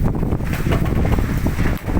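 Strong wind from an approaching storm roars as a continuous broadband rush with gusty buffeting against the microphone, loud and close throughout.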